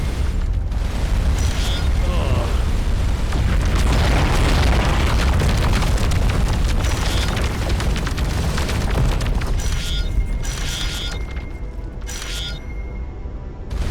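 A spaceship blows up during a space battle in the video game Starcom: Unknown Space, a dense, loud rumbling blast that holds for many seconds with crackling bursts, then thins toward the end, with speech over it.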